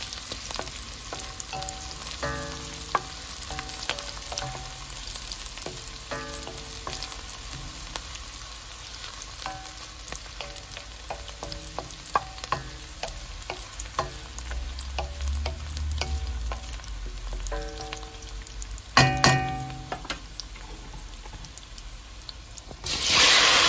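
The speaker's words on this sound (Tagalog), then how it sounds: "Ngayon, haluin ng bawang at sibuyas." Garlic and onion sizzling and frying in a pan for a fish sarciado, with steady hiss and repeated scraping of a utensil stirring through them, close and continuous, with no talking.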